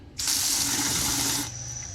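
Water from a hose runs into a small jug near a basement drain, a steady close hissing gush that starts abruptly, holds for over a second, then cuts to a softer trickle.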